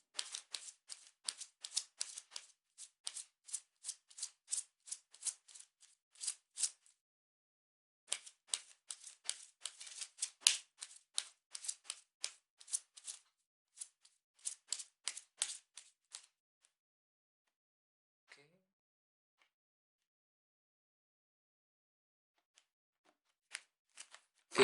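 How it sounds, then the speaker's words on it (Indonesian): Tarot cards are shuffled by hand in several bursts of rapid, crisp flicking clicks, each run lasting a few seconds, close and quiet, then a long stretch of near silence with a few isolated taps. "kartunya dikocok dulu sebelum kita mulai"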